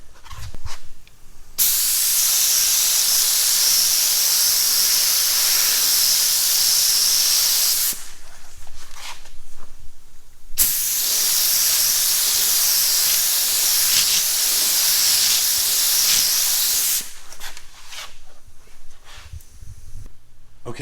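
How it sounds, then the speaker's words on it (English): Spray gun laying primer onto a truck's taped-off panels, a loud steady hissing blast in two long passes of several seconds each, separated by a short pause with faint background sounds. "We're just going to spray this entire area here and the same over here."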